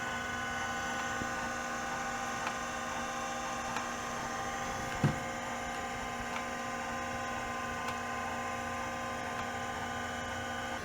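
A 286 computer's disk drive spinning with a steady whine and hum, its head stepper ticking out small clicks at intervals and one sharper knock midway, all close and quiet.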